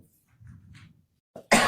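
A single sharp, loud cough bursts out after soft murmuring and a faint throat sound, sudden and close.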